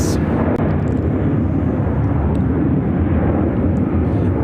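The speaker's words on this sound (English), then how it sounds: "This is United Airlines flight 1950 taking off to Tulum, Mexico on the 737-900ER" A United Airlines Boeing 737-900ER takes off from Chicago O'Hare with a loud, continuous jet roar that holds steady and heavy in the low end throughout.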